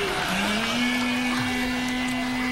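A person's voice imitates a blow dryer: a steady electric whirring hum with a rising pitch at the start, like a motor running, holding continuously and loud.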